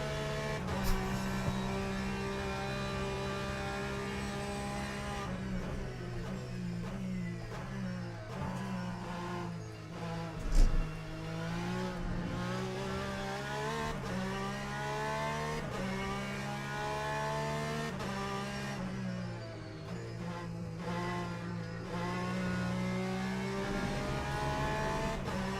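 A Porsche in a racing simulator drones steadily at close range, its engine pitch climbing through the gears and dropping at each shift. A brief bump or squeal breaks in midway.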